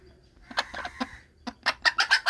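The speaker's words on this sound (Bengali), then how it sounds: "দেখেন মুরগিটা" A hen clucks right after laying an egg as she is shooed off the nest, with short scattered clucks that grow into a quick, loud run of close, insistent calls.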